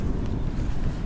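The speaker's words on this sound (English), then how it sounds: "It's nice and windy." Steady outdoor wind buffets the microphone at a waterside spot, a constant low rumble with no let-up and no voices.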